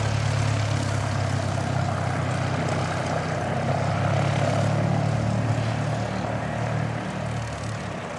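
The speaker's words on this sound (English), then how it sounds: "Good looking Cessna." A Cessna propeller plane drones loudly and steadily at Christchurch Airport, its engine roar and prop buzz sustained close by for the whole stretch with no voices.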